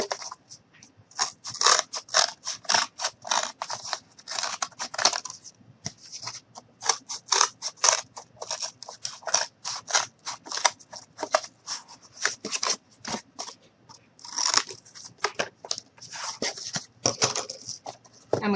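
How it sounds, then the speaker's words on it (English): Scissors cutting through a piece of cardboard for a mini cardboard stove: rapid crisp snipping crunches in quick irregular bursts, close and loud, with brief pauses between runs of cuts. "grab a piece of cardboard, and I'm just going to go ahead and grab a piece"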